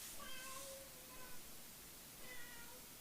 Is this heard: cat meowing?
yes